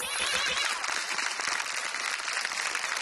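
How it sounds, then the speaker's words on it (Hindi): An audience at a live stage show with Udit Narayan and Alka Yagnik gives continuous, even applause, a dense wash of many hands clapping throughout. "इनकी ऑनेस्टी के लिए एक बार तालियां।"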